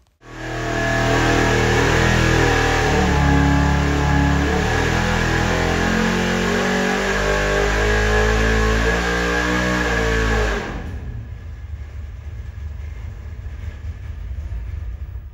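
A small-block Ford V8 fitted with a performance camshaft roars on an engine dyno, revving loud and steady for about ten seconds, then cutting back to a lower idle-like drone.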